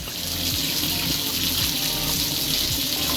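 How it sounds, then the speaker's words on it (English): Fresh water gushes steadily from a tap into a fish pond as a loud, continuous rush and splash, with the pond's outlet valve left open. "So I'm letting fresh water into the tank."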